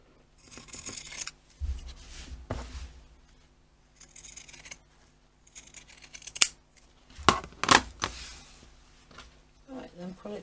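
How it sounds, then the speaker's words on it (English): Pinking shears snip away bulky fabric on a sewn scissor keeper, several crisp close cuts in short bursts spread across the clip, with quiet handling noise between them. "and cut all the bulk."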